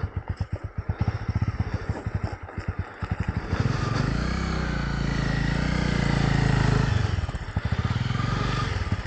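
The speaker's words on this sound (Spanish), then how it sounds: "como pueden ver ahí Felipe está tratando de acomodar su moto" A motorcycle engine revs and idles up close, with rhythmic sputtering followed by a loud sustained roar and some clattering.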